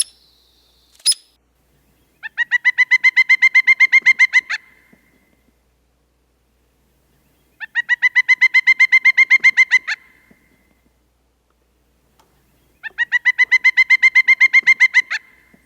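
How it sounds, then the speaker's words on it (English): Pileated woodpecker calls ring out in three separate bursts, each a loud, rapid run of repeated clear notes lasting about two seconds, with silent gaps between and no other sounds. "now we're going to do the pileated woodpecker"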